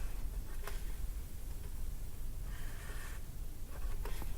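Pen or pencil scratches quietly across paper while a distance-between-points graph is sketched for a math lesson, faint, soft strokes coming in short bursts with no talking.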